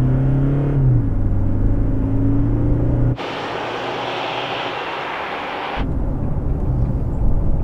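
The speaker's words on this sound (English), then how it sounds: "How does it sound under hard acceleration?" A 2019 Toyota Landcruiser Prado engine revving hard under acceleration, a steady loud drone that climbs in pitch and then gives way to a rushing roar of speed and wind, with no talking.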